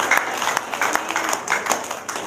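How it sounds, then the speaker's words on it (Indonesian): An audience applauds at a religious testimony gathering, a dense run of many hands clapping together at steady loudness with no talk over it. "Tepuk tangan dong."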